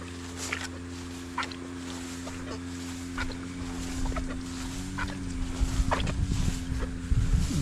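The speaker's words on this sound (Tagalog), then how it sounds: "May nagagrass cutter doon sa dulo." A grass cutter runs at the far end of a rice field as a steady, droning engine hum with a faintly shifting pitch, under outdoor noise and rustling that grows louder toward the end.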